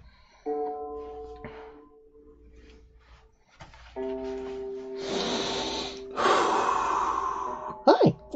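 A cat on the floor breathes and huffs in soft, breathy bursts that grow louder in the second half, with a steady tonal hum running underneath.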